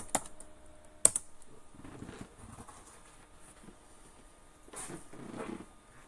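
Typing on a computer keyboard, a few sharp key clicks early, then quiet taps and a short flurry of keystrokes near the end, close and fairly faint, no talk.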